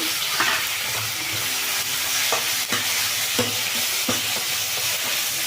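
Tomatoes fry in a pan with cumin seeds and chili, a loud, constant close sizzle broken by regular light taps and scrapes of a stirring spoon, with no voices.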